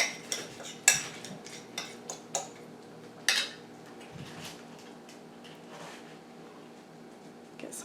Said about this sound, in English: I'm just going to cut my egg up